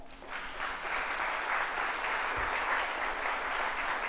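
An audience at a student panel bursts into applause, a steady, moderately loud wash of clapping that swells quickly and holds to the end, with no talk over it.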